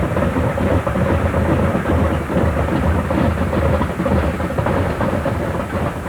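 The giant radial engines of a B-29 bomber run with a dense, loud, rumbling drone that holds steady throughout, with no voices.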